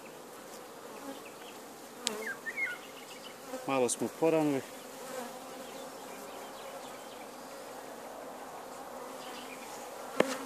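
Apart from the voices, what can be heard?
honeybees buzzing at hive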